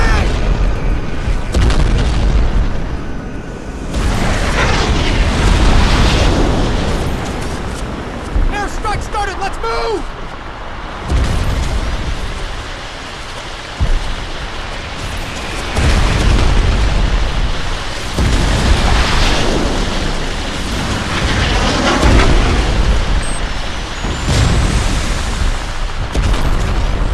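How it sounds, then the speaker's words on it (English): Artillery shells explode in Crysis Remastered, a run of loud, deep booms and blasts spread across the battlefield, with shouting voices and gunfire mixed in between the impacts. "Artillery! Incoming!"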